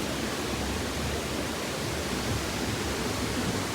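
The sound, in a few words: Wulai waterfall and river flowing water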